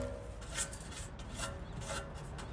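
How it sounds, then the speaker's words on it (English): Burr scraped from a drilled rivet hole in boat-seat stock: a steady close rasping, rubbing scrape with several brief stronger strokes over a few seconds, no voices. "So I'm going to remove the burr."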